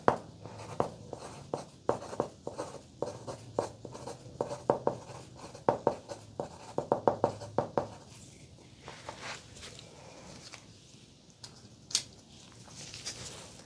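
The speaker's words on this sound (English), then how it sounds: "let me go ahead and write down those numbers." A pen writes numbers on paper in quick, close scratching strokes and taps. The writing is soft and intimate in a quiet room and eases off toward the end.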